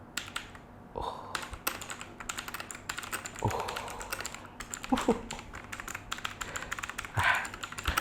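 Rapid clacky typing on a Leaven K550 mechanical keyboard with blue switches, a dense stream of crisp clicky keystrokes with a few heavier key presses and a brief spoken exclamation.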